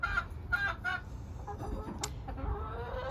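Backyard hens cluck and murmur nearby, with a few short, sharp calls in quick succession early on, then softer scattered clucks over faint background noise.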